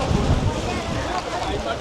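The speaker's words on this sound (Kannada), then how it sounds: "ತುಂಬ ಗಾಳಿ ಇದೆ." Strong wind on a mountain trek buffets the microphone with a loud, steady, low rumble that never lets up across the short stretch.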